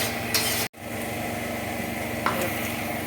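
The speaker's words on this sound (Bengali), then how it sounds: "জল শুকানো পর্যন্ত আমাদের পেঁয়াজটা ভালো করে ভেজে নিতে হবে।" Onion paste frying over low heat in a pan, a steady close sizzle with occasional scraping stir strokes, one brief dropout near the start, no voices.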